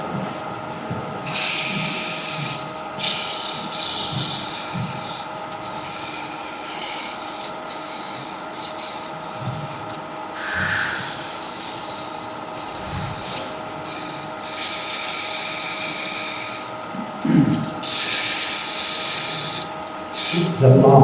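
Hand sanding in repeated back-and-forth bursts during a summer BBQ build project, a steady rubbing rasp with short pauses between strokes, close and fairly loud, with occasional knocks and brief voice in the background.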